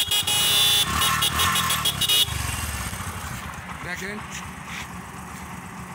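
Idling engine of a secondhand 2020 Bajaj Discover 125 motorcycle that sat unused for six months, a steady close rumble running under someone talking, with a brief louder burst of noise at the start.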